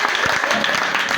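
A church congregation applauds in a dense, continuous burst of clapping, close and loud, with voices mixed in.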